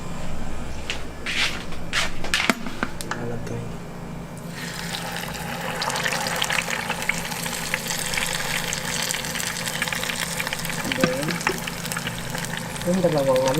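Banana turon frying in hot oil, a steady bubbling crackle that fills the whole stretch, with running water and kitchen handling noises mixed in near the start.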